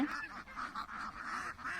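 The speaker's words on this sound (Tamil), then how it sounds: "இந்த வாத்து நடக்கிறத பார்க்குறக்கே வித்தியாசமாக அழகாக இருக்குங்க" Country ducks call in a rural village yard beside a water channel, a steady run of raspy quacks and honking calls, several birds close together, fairly loud and continuous.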